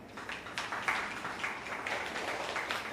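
Applause from an audience at a basic-research policy forum, following the end of a presentation; steady, fairly quiet clapping that sounds somewhat distant and lasts the whole moment without speech.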